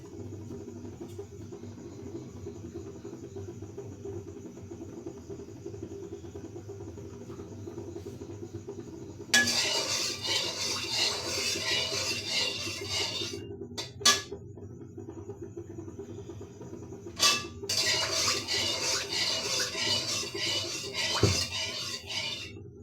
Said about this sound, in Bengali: আমি পুরনে এলাচি, দারচিনি, তেজপাতা 4টি দিয়ে দিলাম গাইস